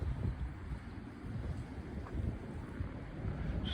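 Strong wind blows steadily, a dense roar buffeting the microphone with gusts rising and falling throughout, and no other sounds.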